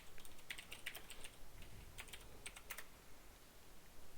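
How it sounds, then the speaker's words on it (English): Quiet computer keyboard typing a search, with irregular clusters of light key clicks in two short bursts, close and faint with no talk. "I'm going to type in Minecraft schematics."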